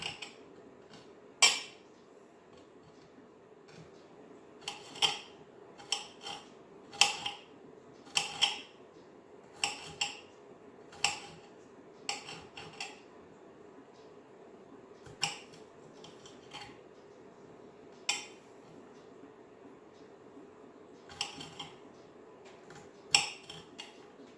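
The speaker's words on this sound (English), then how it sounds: "I'm not like those chefs that can chop these things up in 2 seconds" A knife chops vegetables on a cutting board for homemade chicken noodle soup in an unhurried, uneven rhythm, with sharp taps arriving in short bursts separated by pauses over a low, steady background hum. The chopping is moderately close and nobody talks.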